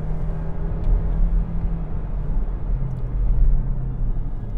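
A mild-hybrid SUV engine, one of the Hyundai Tucson 2021, SEAT Ateca, Peugeot 3008 or Ford Kuga, pulls under acceleration as a steady, deep cabin drone that swells slightly toward the end, with no talk.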